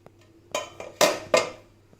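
A metal pressure cooker weight is lifted off and the lid opened, making a few sharp close clinks and clanks spaced over two seconds, the strongest two near the end, with no steam hiss.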